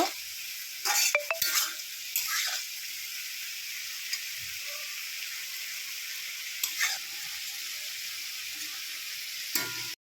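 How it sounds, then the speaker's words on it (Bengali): Pre-fried lentil dumplings (bori) go into a vegetarian mixed vegetable curry and are stirred, giving a steady hiss of frying with a few clinks and scrapes of a utensil against the pan. "এইবার ভেজে রাখা বড়িগুলো দিয়ে দিলাম। দিয়ে এবার নেড়ে দেব।"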